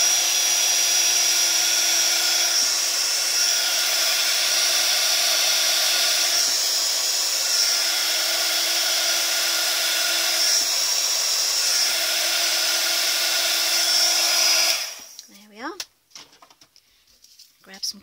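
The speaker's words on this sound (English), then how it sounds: "I've preheated my heat tool" A heat tool blows steadily while melting embossing powder on a watercolour floral card, a loud close whirring hiss running for about fifteen seconds before it switches off and light handling noises follow.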